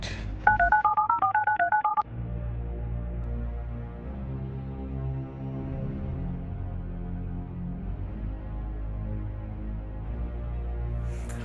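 A quick burst of telephone keypad tones as a number is dialed, then a long steady low droning hum while the line connects.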